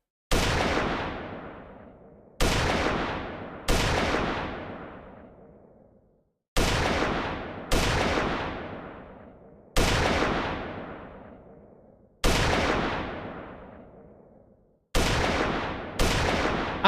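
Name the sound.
gun firing animation in an Unreal Engine 5 game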